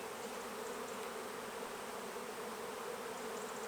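Honey bees on a hive frame being shaken off, giving a soft, steady, continuous buzz that stays even in level throughout, fairly faint with no voices.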